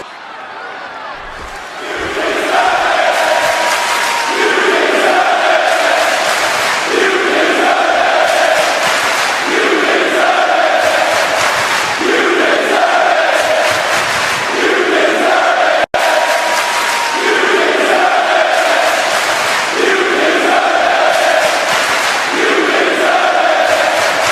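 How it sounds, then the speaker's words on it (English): Wrestling arena crowd chanting in steady rhythmic waves for the champion after a controversial referee-stoppage win, loud and sustained for the whole stretch. "The crowd telling the champ that he deserves it"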